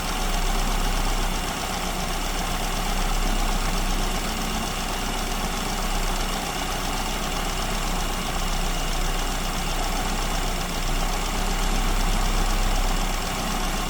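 A car engine fitted with an SU carburetor idles at roughly 930 to 940 rpm during mixture setting, giving a steady, even mechanical hum and rumble that stays constant and close with no voices.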